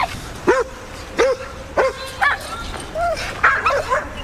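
A black dog barks outside a fence during a police call to a neighborhood disturbance in Gwinnett County, Georgia: several sharp, separate barks about a second apart, mixed with whimpering yips, close and loud.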